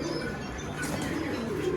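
Breeding pigeons coo softly in a loft, a low steady murmur from several birds close by with no voices over it.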